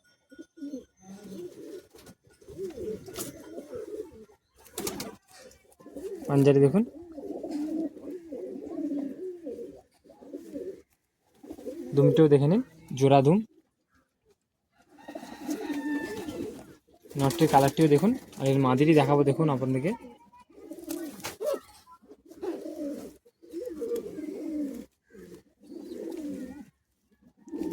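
Green-eyed pigeons coo low and steadily in a loft in Bagnan, their murmuring running beneath a man's close, continuous talk with brief pauses between his phrases.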